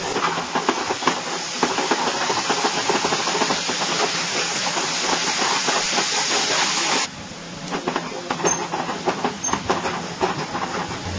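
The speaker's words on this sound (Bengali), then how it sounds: "সব মশলা একসাথে মিশিয়ে ভালো করে কষিয়ে নেব।" Ground spices with a splash of water sauté in a hot pan for a prawn and papaya ghonto, giving a steady crackling hiss with bubbling spits, loud and close, then slightly softer toward the end; nobody talks.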